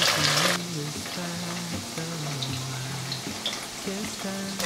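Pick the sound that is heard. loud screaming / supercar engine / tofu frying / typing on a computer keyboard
tofu frying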